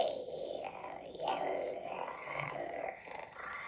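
A looping ambient track from a Halloween yard haunt prop plays low growls, groans and guttural rumbles in a continuous murky wash, moderately loud and unbroken, with no clear talking over it.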